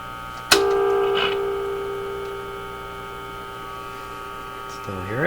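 A tube radio fed by a signal generator gives off a steady tonal hum with a thin high squeal layered over it, starting with a click and holding fairly constant, with a rising warble at the end.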